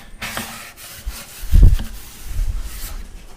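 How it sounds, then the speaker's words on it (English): Squeegee rubbing and pressing down covering material on a stove top cover, soft scraping strokes with one heavier rub in the middle, close by and alone. "Squeegee it down real good."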